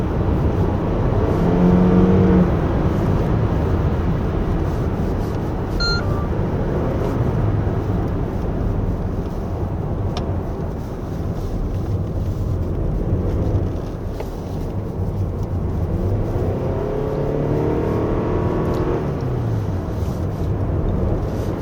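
A 2024 Toyota Alphard 2.5 hybrid minivan engine hums steadily from inside the cabin on a winding road, its pitch climbing a little toward the end as it accelerates.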